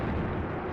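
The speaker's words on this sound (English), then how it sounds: "Look at all that artillery." Mortar artillery fire in the war game Graviteam Tactics, heard as a loud, continuous, heavy rumble of blasts that fills the whole short moment without a break.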